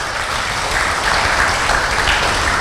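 An audience applauds at a full moon meditation talk, a brief, dense, even wash of clapping with no voices over it.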